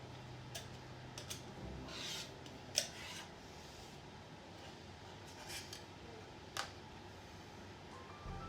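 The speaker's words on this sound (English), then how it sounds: "I'm going to just snip these threads." Scissors snipping loose threads on a sewn maple leaf quilt block, a few faint, sparse clicks over quiet room tone.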